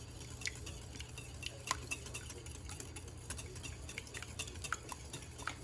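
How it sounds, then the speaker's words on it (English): Hollandaise sauce being whisked in a bowl over steam, with a soft, rapid, steady ticking of the whisk against the bowl over a low continuous hum, faint and without talk. "So you're going to start off just by whisking over that steamed bowl."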